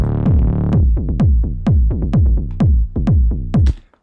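Tech house low end plays alone: a punchy kick drum thumps in a steady four-on-the-floor beat under short, deep bass notes that bounce between the kicks, loud and dry.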